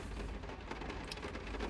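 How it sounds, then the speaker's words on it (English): Steady heavy rain hisses outside, a dense, even wash of noise with no voices, fairly faint and distant. "raining outside really heavily"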